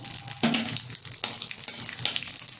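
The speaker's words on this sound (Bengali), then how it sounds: "এখন এই তেলের মধ্যে দিয়ে দেবো দুটো তেজপাতা কিছুটা মেথি কিছুটা রাঁধুনি ফোড়ন" Bay leaves, fenugreek seeds and radhuni drop into hot oil for a tempering, producing a close, crackling sizzle with irregular bursts and spits over a few seconds.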